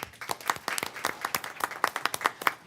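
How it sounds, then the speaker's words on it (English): Small audience at a school board meeting gives brief, sparse applause, with individual claps distinct and evenly paced, close and moderately loud. "That is worthy of applause."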